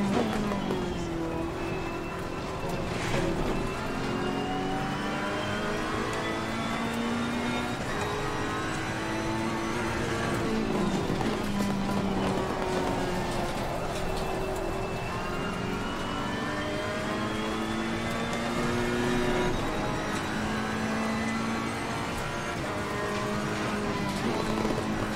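Ferrari GT3 Evo race car lapping Oulton Park in Assetto Corsa Competizione, its engine droning steadily with rising and falling pitch through gear changes and corners, loud and continuous for the whole stretch.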